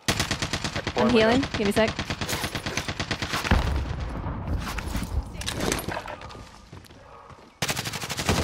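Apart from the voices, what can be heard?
gunfire in a video game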